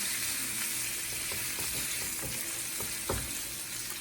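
Oxtails sizzling in a frying pan as they are flipped, a steady crackling hiss with a few sharper clacks of meat and utensil against the pan, close and fairly quiet, no talking.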